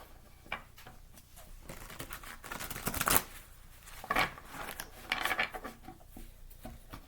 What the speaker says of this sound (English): when I do these readings, I shuffle several times.